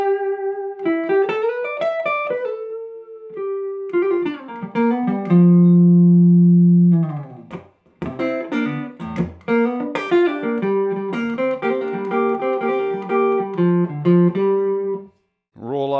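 A 1952 Gibson ES-175 hollow-body electric guitar plays a jazzy passage of single notes and chords, including a long sustained low note midway, loud and close with no talk.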